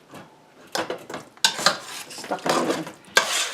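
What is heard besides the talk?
mixing shepherd's pie filling in a pan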